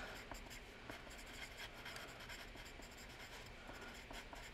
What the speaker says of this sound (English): So we'll write stove burner.